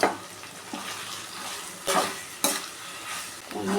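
Ivy gourd stir-fry sautéing in a pan on low heat, a steady soft sizzle punctuated by a few scraping stirs of a spatula, close and continuous with no talking.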